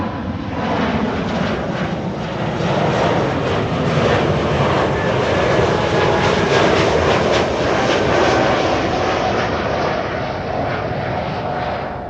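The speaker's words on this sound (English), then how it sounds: "a departure from KLM, a narrow body" A KLM narrow-body jet departing Amsterdam Schiphol gives a sustained loud engine roar that swells and holds across the stretch, with a faint whine riding over the rumble.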